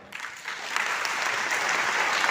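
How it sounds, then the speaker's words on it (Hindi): Audience applause fills a seminar hall in Lucknow, a dense wash of many hands clapping that swells after a soft start and stays steady and loud to the end, with no voices over it. "इस हॉल में बैठकर जितनी तालियां आप बजाते हो"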